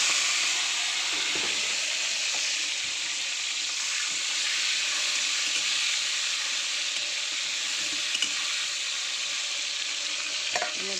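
Tomatoes go into hot oil in a kadai with nigella seeds, giving a steady, bright sizzle that hisses on without pause or talk.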